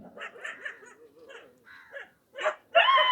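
Several dogs bark and yip in short irregular bursts at close range, with the sharpest, loudest barks near the end.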